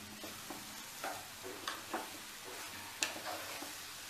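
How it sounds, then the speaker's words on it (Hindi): Dry coconut and sugar stirred in a pan over a slow flame, giving soft intermittent scraping and light crackly sizzle, a few distinct stirs alone at low volume. "इसे रेगुलर चलाते हुए बनाइए"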